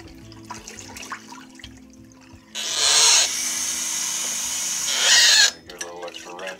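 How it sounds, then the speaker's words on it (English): Water rushes into an energy drink bottle and swirls around as it is rinsed out, a loud splashing gush lasting about three seconds, set between quieter moments of handling. "Just rinse that taste out of the bottle."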